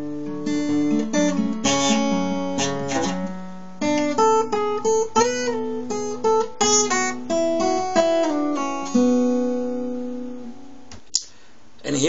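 An acoustic guitar plays the fourth section of a fingerpicked solo, with clear picked notes and ringing open strings in an uneven phrased rhythm, close and alone before a final stray pluck.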